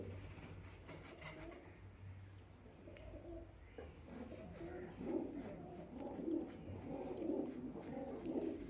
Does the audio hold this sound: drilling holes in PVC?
no